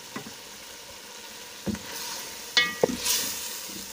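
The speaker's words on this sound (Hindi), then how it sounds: "साथ ही इसमें हमने जो मसाला बनाया था ये हम इसमें ऐड कर देंगे।" Masala stirred into beef for yakhni pulao, frying in a pot with faint sizzling and a few scraping stirs and knocks of a spoon spread across the clip, fairly quiet throughout.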